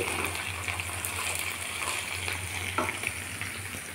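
Drumstick (moringa) pieces fry in a pan, giving a steady crackling sizzle with occasional stirring scrapes, close and continuous.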